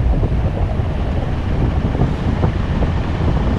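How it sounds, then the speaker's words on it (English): Strong valley wind rushing past a paraglider in flight, a loud, continuous buffeting roar with no other sounds. "Wow, the wind is so strong from the valley."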